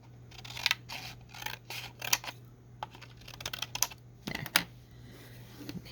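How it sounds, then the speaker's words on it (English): Scissors trim the edge of an acetate journal card in a run of quick, crisp snips, close up and quiet against a faint steady hum. "Just trim this off the edge."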